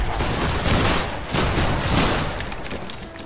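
Musket volleys crack out in Battle Grounds III, a loud ragged burst of overlapping shots with rolling booms that swells and fades over a few seconds, with no speech.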